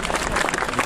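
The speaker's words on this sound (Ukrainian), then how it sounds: "Давайте ще раз привітаємо оплесками місто Гнівань наші гості." Audience applause at a public bike rally event in Kyiv, dense steady clapping from a crowd, loud and close for a brief moment.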